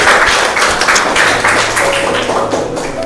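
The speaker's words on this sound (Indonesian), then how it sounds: "Tepuk tangan dulu untuk kelompok 1." Classroom applause for a student group during a social studies lesson, a short loud burst of close clapping with distinct individual taps lasting about three seconds.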